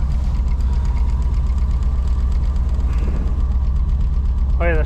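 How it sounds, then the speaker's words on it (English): Old junker truck engine idles steadily with a stock fan, a loud, constant low rumble with a rhythmic knock close by, and a voice briefly heard at the end. "It's just sitting there idling."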